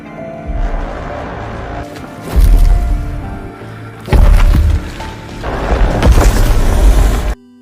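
Soldiers fire weapons at a troll, heard as heavy booms and crashing impacts that come in loud bursts with quieter rumbling gaps between them.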